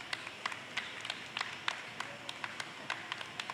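A small audience at a glassblowing demonstration claps, a light, scattered patter of hands at moderate distance that runs steadily throughout without any voices on top.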